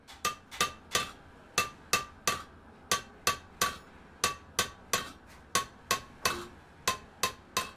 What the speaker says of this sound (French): À l'aide d'un marteau et d'une pique, il crée du relief sur le métal de ses assiettes, plateaux ou autres